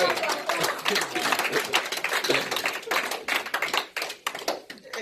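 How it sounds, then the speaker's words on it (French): A church congregation claps and cheers in acclamation during a service, dense lively applause with sharp individual claps and voices mixed in throughout. "Donne une belle acclamation à notre Dieu."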